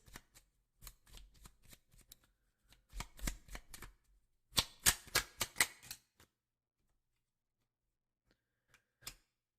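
Tarot cards shuffled by hand: bursts of crisp riffling and slapping in irregular clusters, close and clear, then near silence with one last brief card snap.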